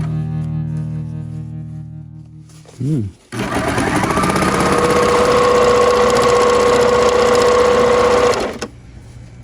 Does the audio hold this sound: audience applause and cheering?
no